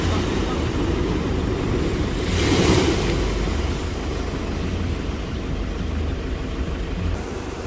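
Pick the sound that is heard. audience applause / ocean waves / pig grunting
ocean waves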